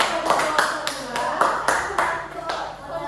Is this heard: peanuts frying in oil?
no